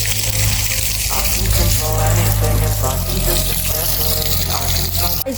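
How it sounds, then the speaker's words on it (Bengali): Tap water pouring steadily into a container while making a country-style egg chutney, a loud continuous gushing stream with background music running throughout and a brief break near the end. "তো গাইস এখন আমি জল দিই"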